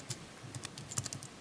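Quiet typing on a Mac keyboard while entering a terminal command: a quick, irregular run of light key clicks, close and soft, with no talking.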